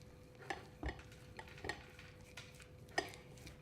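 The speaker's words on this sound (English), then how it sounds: "going to mix that up" Feta, cream cheese and Parmigiano Romano mixed together in a bowl, giving faint, soft utensil strokes and a few light clinks at irregular intervals in a quiet room, with no speech.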